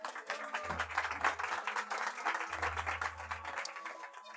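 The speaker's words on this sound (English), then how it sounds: "Give Danny a nice round of applause." Audience applause at a Nerd Nite Tokyo talk for a volunteer, a quiet, steady round of clapping from a crowd, heard somewhat distant, with low thumps of handling noise underneath.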